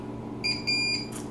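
An RFID door lock gives two short, bright electronic double beeps close by as a lockdown cancellation key card is used, with a faint hum underneath and no talking.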